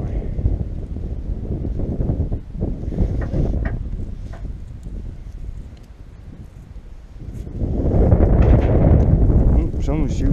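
Strong wind blowing outdoors around hay bales being strapped down, loud gusty rumbling that buffets the microphone, easing briefly and then surging harder, with someone talking over it.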